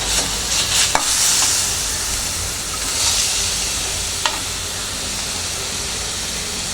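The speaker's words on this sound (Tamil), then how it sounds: "சிம்மில் வச்சுக்கோங்க" Carrot rice being stirred in a pan over a low flame, heard as a steady soft sizzle and hiss with a few light stirring scrapes, fairly close, with no talking.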